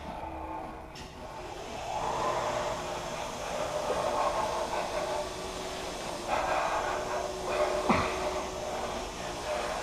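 A distant train rumbles about a mile and a half off, a low continuous wash of noise rising and falling with faint swells and no talk.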